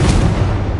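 A Confringo blasting spell in the Hogwarts Legacy video game, a short, loud, close boom with a deep rumbling body lasting under a second.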